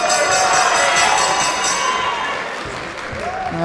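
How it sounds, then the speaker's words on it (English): Boxing crowd at a British super flyweight title fight clapping and cheering in a dense, loud wash of applause that fades slightly, then swells again near the end. "Crowd showing their appreciation there"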